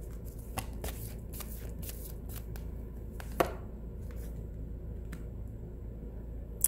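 Tarot cards being shuffled by hand, soft papery riffles and taps scattered through the stretch, faint and close over a steady low background hum with no talking.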